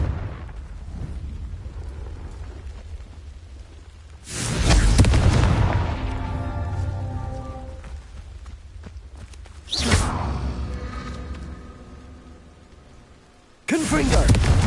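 Confringo blasting curses from the wizarding game Hogwarts Legacy go off three times, each a loud whooshing burst and booming explosion that rumbles and decays, with a voice speaking amid the blasts.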